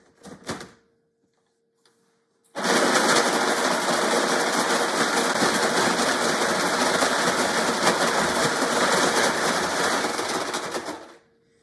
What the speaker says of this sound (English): it's time to turn it on and shave your ice